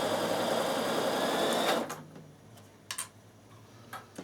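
A Bernina sewing machine backstitches a linen pillowcase, running in a steady, close mechanical whir for under two seconds and then stopping, followed by a few faint clicks and taps.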